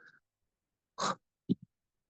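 A person vocally imitates a guttural, owl-like whoo sound, a short breathy burst followed by two quick clipped puffs, soft and close in a quiet room.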